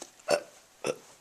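A person imitates a burp twice with the voice, two short throaty bursts about half a second apart, close and fairly quiet with nothing else around them.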